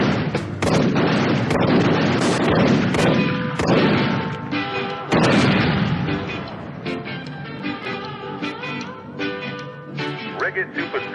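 Gunfire in an archival recording: loud, rough bursts of shots and booms, some in quick clusters and others spaced apart, with a harsh, distorted quality and some voices mixed in.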